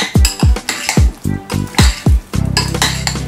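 A spoon stirs ripe plantain with pepper in a pot, clanking and scraping in steady strokes about twice a second, then a loud sizzling hiss of deep frying takes over.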